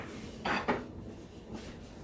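A spoon stirring cashew chicken in a crockpot gives two quick clinks against the pot, then a softer scrape, close and quiet with no talk.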